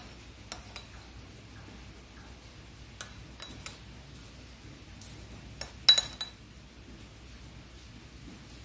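Quinoa salad dressed with olive oil, lemon juice and salt is tossed in a bowl, giving sparse soft clinks of a utensil against the dish, with a brief cluster of louder taps near the end over a quiet room.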